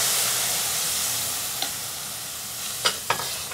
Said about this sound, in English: So to our rice, we're going to add some white wine.